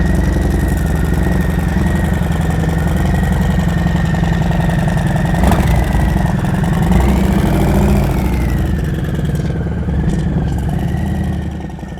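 A motorcycle engine runs close and loud at a steady rumbling idle, then briefly rises in pitch as it revs before easing back down.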